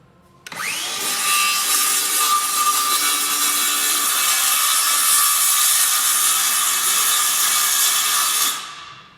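A circular saw cutting wood switches on with a sharp start, then holds a loud, steady high-pitched whine for about eight seconds before winding down at the end.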